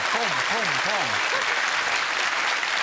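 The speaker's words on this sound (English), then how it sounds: "That deserves a round of applause." Studio audience applause on a BBC game show, a dense steady roar of clapping that fills the whole stretch, with a host's voice speaking over the first part.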